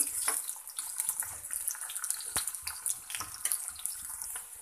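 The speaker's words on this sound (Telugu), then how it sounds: "ముక్కలన్నింటినీ కొద్దిగా ఆయిల్లో వేపుకోవాలి కొంచెం కలుపుకోవాలి ఇవి కొంచెం మీడియంలో వేగాలి" Potato pieces fry in a little oil over medium heat, giving a continuous close hiss of sizzling with scattered sharp crackles and pops, and no one speaking.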